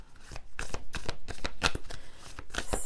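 Oracle cards are shuffled by hand in quick, close riffles, a dense run of crisp flicks and soft slaps with no voice over them.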